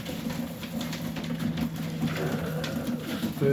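Young Serbian Highflyer pigeons coo in a loft, soft repeated low throaty calls overlapping at close range, with light shuffling and faint background noise and no talking.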